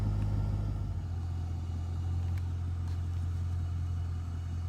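A 1997 Jaguar XK8 engine idling as it warms up, a steady low rumble with a smooth even hum, close and constant with no revving or voices.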